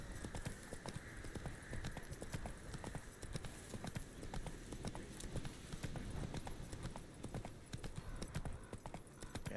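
Roach the horse gallops in The Witcher 3, hooves clip-clopping in a steady fast rhythm throughout, close and loud, with brief voice under the hoofbeats.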